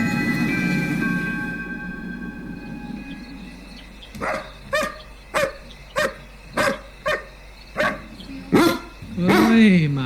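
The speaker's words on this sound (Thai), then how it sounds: "เฮ้ยหมามันเห่าอะไรวะ" A dog barks in a series of about eight sharp, evenly spaced barks at close range, ending in a drawn-out whimpering whine, after a stretch of tonal background music.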